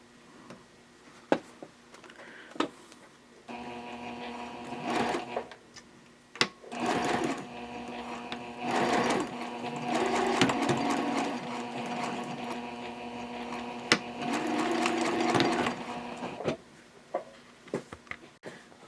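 A sewing machine stitches the seams of a Hannah Sling in bursts of rapid mechanical whirring, separated by short pauses and the clicks of handling, with no voices.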